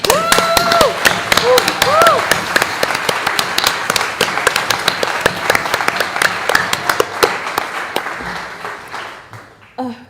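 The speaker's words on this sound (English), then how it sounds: "I feel like we need to just do one more round of applause for that." Loud, sustained applause and clapping from a crowd at a community unity day closing ceremony, with scattered whistles and cheers rising over it, continuing for about ten seconds before tapering off near the end.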